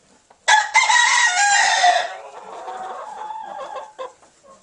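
Hens in a coop fuss and cluck close by, with one loud drawn-out call at the start before the birds settle into softer, scattered clucks.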